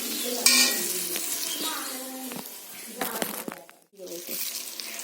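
Spice masala scraped and stirred in a frying pan with a utensil, over a steady sizzle with clinks of metal on the pan, while a voice talks intermittently over the cooking; a brief silent gap near the end.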